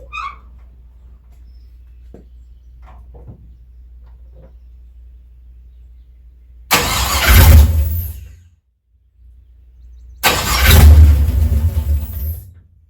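A 1957 car engine cranks and catches twice, each time roaring loudly for a second or two and then dying away. Quiet stretches and a few faint clicks come before and between the two starts.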